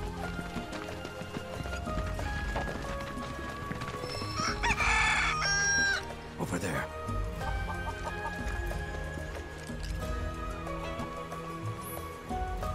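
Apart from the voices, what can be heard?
chickens clucking and crowing in video game Final Fantasy VII Rebirth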